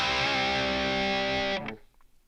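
An electric guitar through a Boss Katana MK2 set with light spring reverb holds one distorted, sustained chord that rings loudly and then cuts off abruptly.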